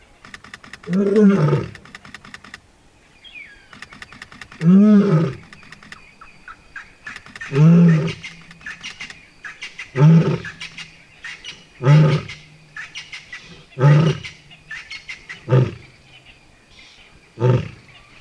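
A female lion lying down in Khwai, Botswana, roars loudly in a series of about eight deep, rhythmic bursts spaced a couple of seconds apart, close and dominant over quiet outdoor background.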